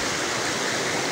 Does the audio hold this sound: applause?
no